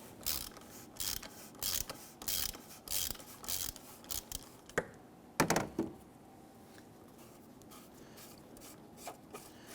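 A 1/2-inch drive ratchet with a 24mm socket and extension loosens the oil filter cover on a 2011-2023 Dodge Charger 3.6L V6, giving close rapid clicking bursts in strokes that slow and fade toward the end.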